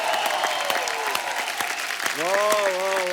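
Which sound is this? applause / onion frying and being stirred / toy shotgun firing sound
applause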